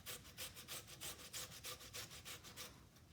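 Cucumber rubbed on a fine grater makes soft, rhythmic scraping strokes, about three per second, close by and steady throughout.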